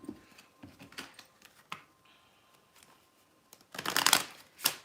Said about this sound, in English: Just bear with me whilst I shuffle.